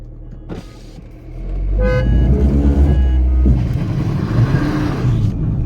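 A Skoda Octavia 1.8 TSI and a BMW X1 2.0 diesel launch side by side in a drag race, engines roaring up loudly and close with rising revs that hold steady to the end.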